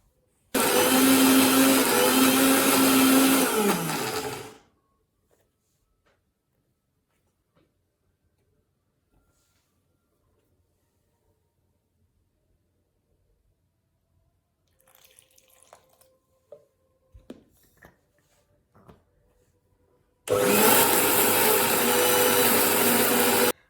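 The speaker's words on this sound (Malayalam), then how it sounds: "ഒരു കൊത്ത് പരുവത്തിൽ നമുക്കിത് അരച്ചെടുക്കാം" A mixer grinder coarsely grinds banana stem paste in two loud bursts of whirring motor noise, each about four seconds long. Between them comes a long quiet gap with faint clinks and handling sounds.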